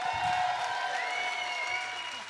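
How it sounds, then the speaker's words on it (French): An audience applauds for guitarist Paul Sexe of the duo Sexe Illégal at a live show, a dense wash of clapping with steady crowd noise under it. "une bonne main d'applaudissements pour Paul Sexe!"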